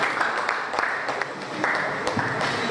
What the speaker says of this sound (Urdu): بھرپور تالیوں کی گونج میں جناب ناز مظفر آبادی